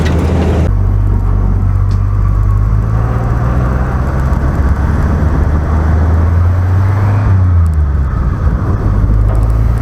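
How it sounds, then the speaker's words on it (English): A car engine fitted with a Kerry turbo runs steadily at close range, with a loud low rumbling drone whose pitch shifts slightly as the turbo spools up. "I already hear the turbo again."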